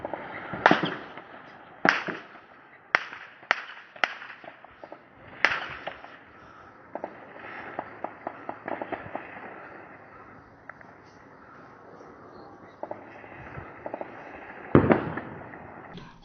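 Gunfire at the Tajik-Kyrgyz border clash: sharp, irregular shots, some loud and close, others fainter and scattered, with clusters of cracks spread across the stretch.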